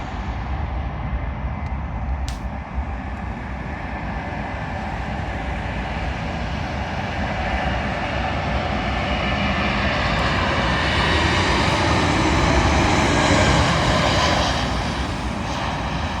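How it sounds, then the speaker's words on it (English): A Lufthansa Airbus A320neo from Frankfurt comes in to land at London Heathrow on runway 27L, its jet engines giving a loud, sustained roar that swells slightly before easing off. "Arriving in now is a Lufthansa Airbus A320neo from Frankfurt, terminating here at London Heathrow Airport."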